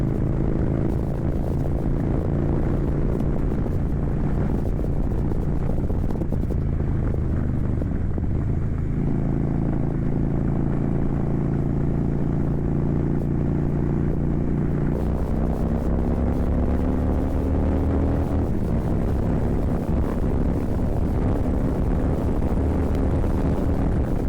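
A 2014 Harley-Davidson Softail Slim motorcycle on a test ride drones continuously, its engine note rising and falling with gear changes under steady wind rush, loud and close throughout.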